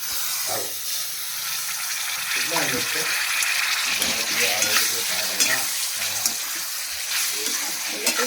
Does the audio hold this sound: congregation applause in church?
no